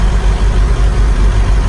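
Skoda Superb 2.0 diesel engine idling during DPF regeneration, giving a steady, close, low rumbling hum with a slight rhythmic pulse and no talk.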